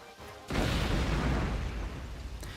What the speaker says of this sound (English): The sound of an explosion rocks the air.